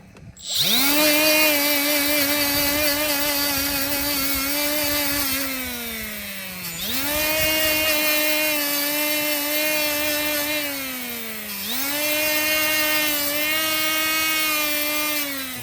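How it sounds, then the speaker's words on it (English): A power wire wheel scrubs rust off front brake parts from a 2007 Honda CR-V, its loud whine spinning up, sagging under load and recovering in three long passes, with no talking. "I'm going to wire wheel this rust off of these"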